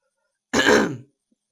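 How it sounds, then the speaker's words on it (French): A single short throat-clearing cough, close and fairly loud, surrounded by silence. "je vais enlever ces petites toux parce que c'est un petit peu dérangeant"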